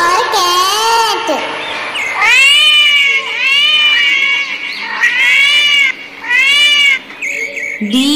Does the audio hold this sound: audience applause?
no